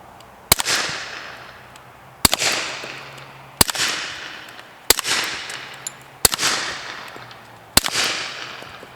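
A suppressed M&P 2.0 .45 ACP pistol firing at bowling pins on a rack outdoors, six sharp shots at roughly even intervals, each followed by a short clatter and fading ring, loud and close with no talk.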